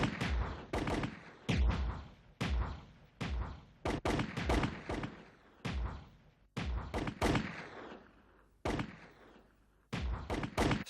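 Loud, sharp reports from 7.62 SLR rifles on an army rifle range, each crack followed by a short ringing tail, firing in uneven volleys and overlapping shots that carry on steadily.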